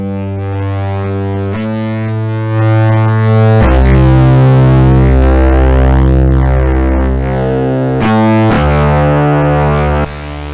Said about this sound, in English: just really, really good sounding distortion